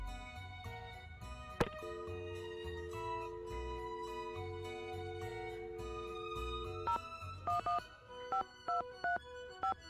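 Touch-tone phone dialing in the Nancy Drew video game The Phantom of Venice: a quick series of short, evenly spaced keypad beeps follows a long stretch of steady background music, fairly loud and clear.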